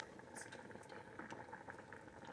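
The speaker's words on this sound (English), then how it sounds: "That is boiling." Hot sauce bubbles and pops steadily at a rolling boil in a pot, close by and fairly quiet, with no voices.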